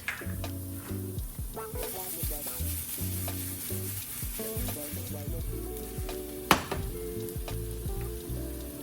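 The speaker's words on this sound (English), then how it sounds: "And then I like to go ahead and saute those up in a little bit of olive oil." Diced vegetables and fresh cilantro sauté in olive oil in a pan for a blackened strawberry grouper dish, with a steady close sizzle, repeated spoon stirring and one sharp clink, and no talking.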